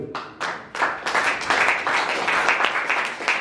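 A church congregation at a French-language service breaks into applause, building from a few separate claps into sustained, dense clapping that fills the room.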